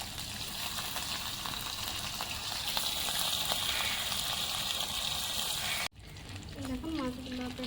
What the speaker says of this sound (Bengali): আর এবারে পেটুগুলো ভাজবো।